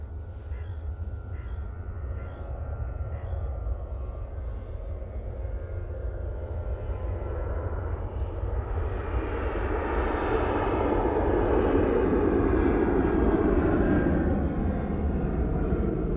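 A Ryanair airliner on its takeoff roll at Manchester Airport, its engine roar building from a distant rumble to a loud rush. Several crow caws sound early on.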